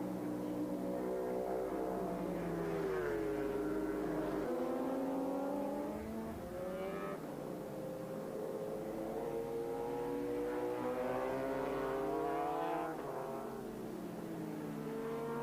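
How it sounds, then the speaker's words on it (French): Endurance racing motorbikes fitted with large night headlights at the Paul Ricard circuit during the 1994 Bol d'Or, engines droning loudly and continuously with rising and falling revs and a brief dip midway. "Endurance bikes, of course, with these massive headlights for the night racing here."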